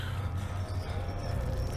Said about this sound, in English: I'm hearing footsteps, but I'm not seeing anybody.